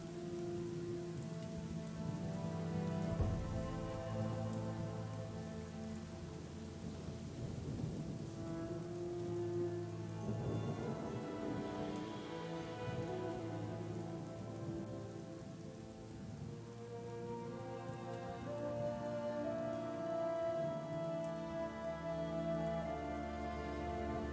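Rain in the video game The Chronicles of Myrtana: Archolos, a steady hiss of rainfall on surfaces with thunder rumbling through it, set against a soft tonal music bed, no voices.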